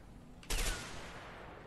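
Gunfire sounds in the co-op video game A Way Out: one sharp blast with a short fading tail, heard fairly faint over a steady background hum with no talking.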